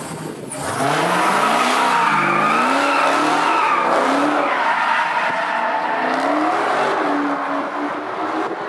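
A Porsche drifts with its tires skidding and squealing loudly in long, wavering howls under engine noise, heard continuously for several seconds.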